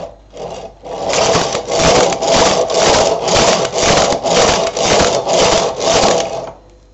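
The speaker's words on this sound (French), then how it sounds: "La bordure, je la fais sur la SK 280, la machine Silver Red SK 280" A Silver Reed SK 280 knitting machine knits a skirt border, its carriage making a loud, steady rhythmic rasping and clattering that repeats in about ten even strokes and then stops.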